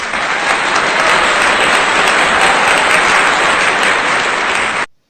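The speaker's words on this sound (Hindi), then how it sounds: "तो आइए रिद्धि भट्ट जी का जोरदार तालियों से स्वागत करें।" Loud, dense applause from an audience at a Hindi poetry gathering welcoming a performer to the stage, steady clapping that holds for about five seconds and then cuts off abruptly.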